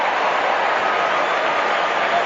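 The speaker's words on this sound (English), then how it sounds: "Every time he gets near it, the crowd rises." Football crowd at a West Coast versus North Melbourne elimination final rising into a sustained roar and cheer, a dense continuous wash of voices heard from a distance over a radio broadcast.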